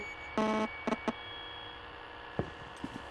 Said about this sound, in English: there's like a buzzing noise